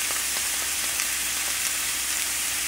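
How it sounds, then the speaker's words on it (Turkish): Chopped peppers sizzle in a pan alongside frying potatoes for a simple vegan dish, a steady close-up hiss and crackle of oil with a few faint clinks and no voices. "patateslerimiz olurken bir yandan da doğradığım biberleri atıyorum şu an"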